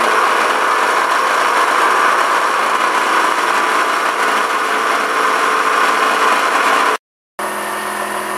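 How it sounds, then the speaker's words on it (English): A juicer spins at high speed to fling juice out, giving a loud, steady motor whine that cuts out abruptly for a moment near the end and then resumes. "right now it's turning so fast that it just spins the liquid out of the stuff"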